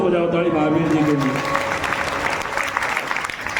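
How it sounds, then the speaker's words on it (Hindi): A crowd claps loudly and steadily for dholak player Mahavir Singh Vedanti at a devotional gathering, the applause continuing throughout while a voice talks over it. "जोर से बजाओ ताली महावीर जी के लिए"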